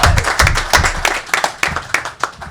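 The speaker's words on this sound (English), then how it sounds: "let's give him a round of applause" A press-conference crowd after the Belmont Stakes claps for the winning trainer, a fairly close, irregular patter of hands that rises and dips over a couple of seconds, with no clear talk.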